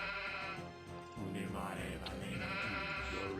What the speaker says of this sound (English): It's actually funny that muttons are called muttons instead of sheep.